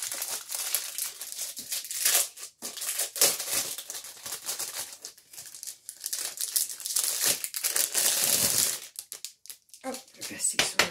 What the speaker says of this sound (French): Donc, elle est encore dans son plastique. Je vais l'ouvrir.